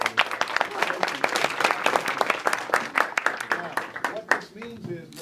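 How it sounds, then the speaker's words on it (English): A lecture-hall audience at a Berkeley Law presentation claps in a dense, lively round of applause that thins toward the end, with voices heard faintly within it. "Let's give one more round of applause."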